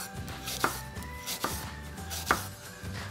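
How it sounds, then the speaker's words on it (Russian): A kitchen knife cuts apples into thin slices on a board, three evenly spaced, faint chops over quiet room tone. "Яблоки буду нарезать пластиночкой тоненькой."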